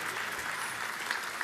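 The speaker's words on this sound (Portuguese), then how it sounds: "É por isso que os aplausos começaram, vão repetir." Audience applause at a gospel church service, a steady dense wash of many hands clapping together, moderately loud and continuous without voices.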